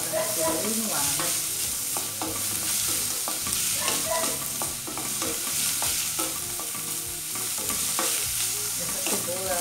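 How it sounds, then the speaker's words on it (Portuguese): Chopped onion sautés in a thin drizzle of olive oil for homemade beans. A continuous close sizzle runs throughout, broken by frequent scraping and clinking stirs in the pan. "Vou refogar a cebola. Vou colocar no feijão. Vou dar uma refogada."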